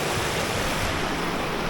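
Creek water rushes over rocks in a constant, close, fairly loud wash of broadband noise with no breaks and no voices.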